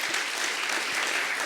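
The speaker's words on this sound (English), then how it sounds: "please give another round of applause to Ms." An audience at a biotech innovation forum keynote in Greece applauds, a steady dense patter of many hands sustained evenly throughout without voices.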